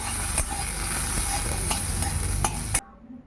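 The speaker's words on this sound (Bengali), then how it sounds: "আর বাদাম ভাজা বসিয়ে দিয়েছি" Peanuts crackle and sizzle in a hot pan, with occasional stirring scrapes, before the sound cuts off abruptly near the end.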